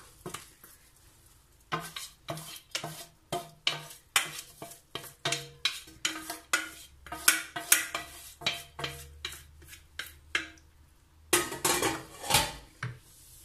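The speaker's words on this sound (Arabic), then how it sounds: "من بعد ما تقطرات مزيان من الماء غادي نخويها في القصريه" Drained vermicelli is tipped into a metal cooking pot, with a rapid series of close clattering, scraping knocks of utensil against metal that pause briefly and resume, no voices heard.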